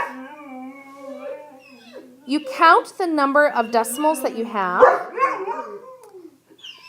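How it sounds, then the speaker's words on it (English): Pet dogs howl and sing together indoors, a long wavering chorus of rising and falling wails that swells loud and close while a person keeps talking over them. "my dogs want to sing"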